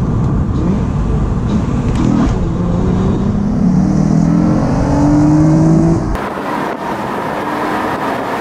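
Car with a freshly broken-in new clutch accelerating hard from inside the cabin, a loud sustained engine roar climbing in pitch through the gears, then a sudden drop to quieter running near the end.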